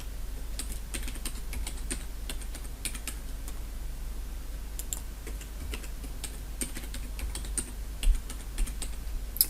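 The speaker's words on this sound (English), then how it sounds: "Sandy Lee, and we'll just give her SANDYL, and then obviously we'll give her a password." Password typed on a computer keyboard: a steady run of quick, light key clicks close by, with uneven rhythm and no talking.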